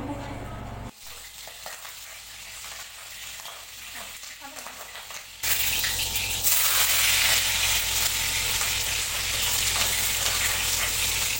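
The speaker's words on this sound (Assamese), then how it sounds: "লেগ পিচখিনি ভাজি ল'ম।" Steady hissing sizzle of chicken leg pieces frying in oil, quieter at first and then jumping to a loud, dense crackle that continues to the end.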